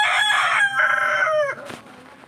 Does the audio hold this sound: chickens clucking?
yes